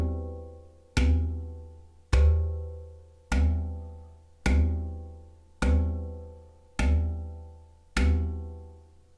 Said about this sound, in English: The first technique uses a cupped hand and a strike on the open port.